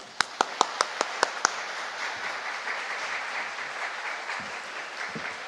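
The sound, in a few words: church congregation applauding to welcome a pastor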